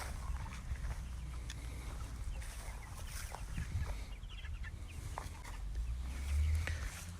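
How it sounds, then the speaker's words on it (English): Meat chickens cluck and murmur in a flock, with scattered soft calls over a continuous low barnyard background, no talking. "Here we have some meat chickens."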